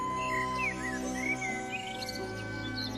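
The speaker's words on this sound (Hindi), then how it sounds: "बहुत से पंछी पानी पीने आए।" Birds chirp and tweet in a cartoon story scene, several short bright calls scattered over about three seconds against a steady musical background, with no speech.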